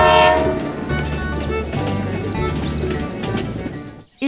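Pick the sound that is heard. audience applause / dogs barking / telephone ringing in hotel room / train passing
train passing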